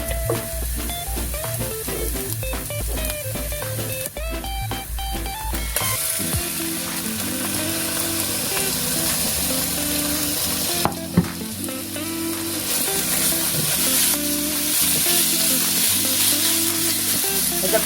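Cubed chicken frying over medium to high heat in a pan, stirred continuously: loud, dense sizzle with rhythmic scraping and clinking of the utensil throughout, no voices.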